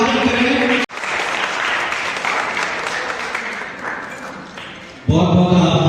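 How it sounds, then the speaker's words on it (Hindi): Audience at a children's and youth painting competition event applauding during a lamp-lighting ceremony, steady dense clapping that begins after a sharp cut and slowly tapers, then gives way to a speaking voice at the end. "और इसी के साथ जैसा कि आप देख रहे हैं, विधिवत जुट को प्रज्वलित किया जा रहा है और एक जोरदार कडकडाती हुई ताली से"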